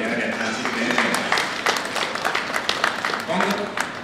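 Small round of audience applause at a community sports club event in Vuosaari, Helsinki: scattered, moderately loud clapping that mixes with murmuring voices and crowd noise throughout.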